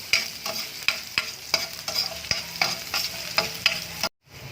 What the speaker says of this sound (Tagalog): Idadagdag na natin tong ating bawang. Siyempre, haluin pa rin natin yan